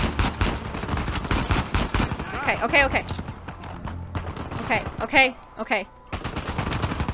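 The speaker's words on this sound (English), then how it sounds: "Shooting at me." Gunfire from the Uncharted 4 video game, with rapid repeated shots aimed at the player. The bursts are dense and loud through the first few seconds, drop away in the middle while a player talks, then return near the end.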